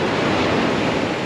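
Sea water washes into a small beach tide pool as a steady, loud broadband rush of surf and flowing water, unbroken and noisy throughout with no voices.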